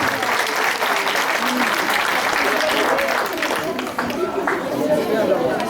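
Steady applause from an audience at a karate club Telethon demonstration, greeting a young performer's kata; dense, continuous clapping mixed with crowd chatter throughout, fairly loud and sustained.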